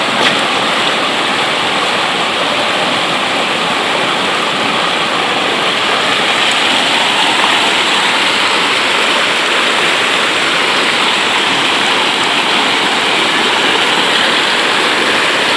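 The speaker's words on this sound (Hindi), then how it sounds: "देखो गाइस कितना तेजी से पानी जा रहा है।" Fast-moving floodwater rushes loudly and continuously through a village, a steady roaring wash close by with no voices over it.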